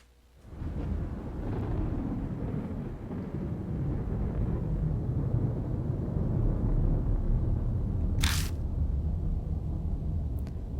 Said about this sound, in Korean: 멀리서 천둥이 치는 소리가 들린다.